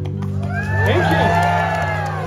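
A live audience at a stage show cheers, whoops and shouts together, a steady dense crowd roar with children's voices, loud and close for a couple of seconds without a clear clapping rhythm.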